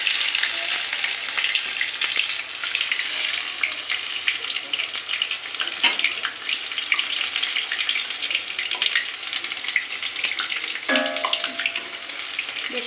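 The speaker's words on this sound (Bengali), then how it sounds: "দেখেন, আপনারা দেখে বুঝতে পারছেন ভাজাটা কি সুন্দর, কত তাড়াতাড়ি ভাজাটা হয়ে যাচ্ছে।" Pumpkin flower fritters (chop) sizzle steadily in hot oil, a dense continuous frying hiss with a brief clink of a utensil near the end.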